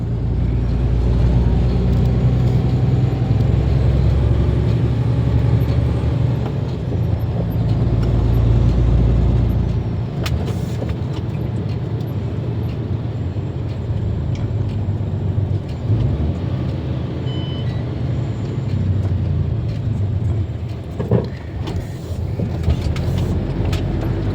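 Trucks and other vehicles roll past on a road, a steady low engine drone with surges and dips as each passes, close and fairly loud, no voices.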